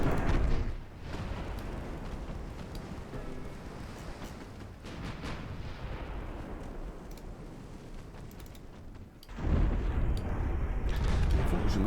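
Naval 12-inch shell gunfire in a warship video game, heard as heavy booming blasts and a rumbling roar that dips briefly and then swells loud again near the end.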